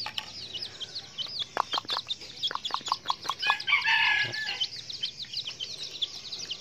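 Young jungle fowl chicks peep in a steady chorus of thin, repeated high calls nearby, with a few clucks and a short burst of busier chatter partway through.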